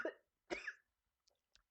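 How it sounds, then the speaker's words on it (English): A person coughs twice in quick succession, close and muffled, followed by a couple of faint small throat sounds. "I need to cough."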